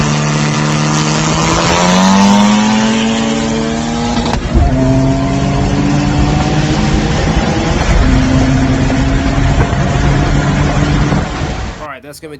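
An Infiniti G35 race car at a race in Mexico, its engine loud and close, climbing through the revs in rising whines with shifts between gears, under steady wind and road roar.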